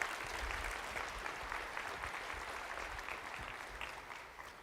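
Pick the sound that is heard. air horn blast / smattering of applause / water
smattering of applause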